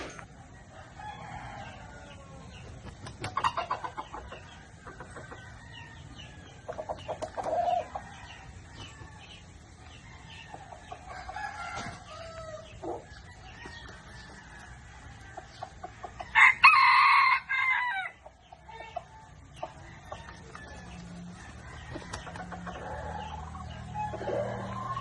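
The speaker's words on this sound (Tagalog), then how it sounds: "Napakaganda ng tilaok ng isang labuyong ito mga ka-hunter" A red junglefowl (labuyo) rooster crows loudly and clearly, with scattered clucks and rustling before and after the call; no people speak.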